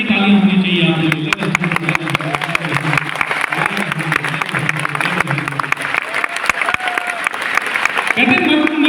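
An audience claps at a motivational company event in Prayagraj, the applause dense and steady throughout, with some crowd noise and voice mixed underneath.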